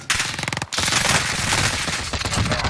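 Automatic bursts from a Cold War AK with no grip in the Warzone video game, loud and close, firing in a rapid rattling stream that breaks briefly once and then keeps firing nearly without pause.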